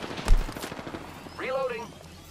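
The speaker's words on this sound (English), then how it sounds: "Opening fire on the enemy." Gunfire in Apex Legends: a sharp close shot burst at the start, followed by a rising synthetic tone, with a faint voice in the background.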